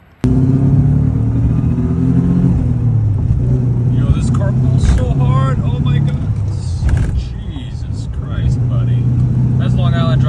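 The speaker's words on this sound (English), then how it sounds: "Yo, this car pulls so hard." A car fitted with eBay exhaust headers pulls hard under acceleration, a loud steady engine drone and rumble running throughout, with people talking excitedly over it.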